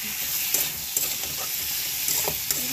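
Cut ridge gourd and potatoes stirred in a hot pan: a soft continuous sizzle under scattered scrapes and taps of a spatula, close and moderately loud, with no talking.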